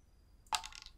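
A die dropped into water during a float-or-sink test, a single quick splash-and-clatter that fades over a fraction of a second, alone in a quiet room.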